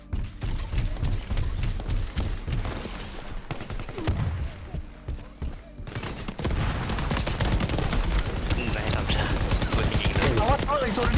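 Rapid bursts of gunfire fill a first-person shooter video game match, dense crackling volleys and automatic fire continuing almost nonstop, loud and close, with mechanical clatter mixed in.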